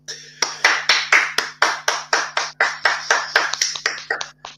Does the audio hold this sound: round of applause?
yes